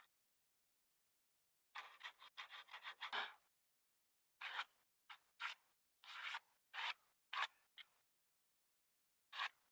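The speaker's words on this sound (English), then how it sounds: "I'm just going to quickly sand any rough splinters off the end of this trunk here" Hand sanding rough splinters off the end of a wooden telegraph pole trunk, a quiet close run of short scratchy rasping strokes in bursts separated by silent pauses.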